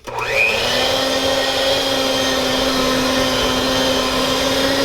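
An electric hand mixer whirs steadily as it blends cookie icing with milk, a loud continuous motor drone with a rising pitch at startup, running alone without talk.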